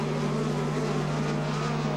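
A speedcar engine drones steadily at the Australian track, a sustained, even, fairly loud tone held for a couple of seconds with no voices over it.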